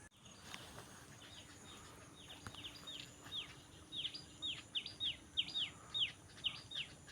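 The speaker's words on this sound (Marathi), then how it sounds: "बघा मित्रांनो तो धिवर पक्षी" A kingfisher gives a rapid series of sharp, high, descending calls, repeated rhythmically and fairly faint over quiet outdoor background.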